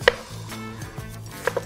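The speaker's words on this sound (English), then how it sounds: "Chop it up and boil it to then mash it." A knife chops through fibrous taro root on a cutting board, giving a few sharp, close knocks spaced out over under two seconds, with no talking.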